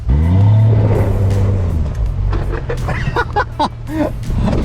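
A Subaru Forester and a Subaru Outback strain against each other in a tug of war, engines droning loud and low with rising revs, while voices chatter faintly over the mechanical noise.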